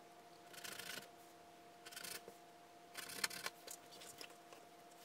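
Scissors snip through fabric for Halloween pillow covers in several short, quiet bursts of cutting, heard up close in an otherwise still room.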